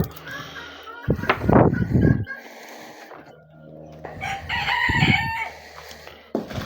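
Roosters crow close by in loud, drawn-out calls, one prominent crow early and another later, with clucking and other farmyard birds around them and a voice briefly speaking.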